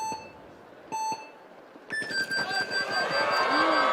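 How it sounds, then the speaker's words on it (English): Three electronic start beeps, two short and one longer, then a crowd's noise swells, at a speed climbing race with a false start. "Jumped the beep a little too early."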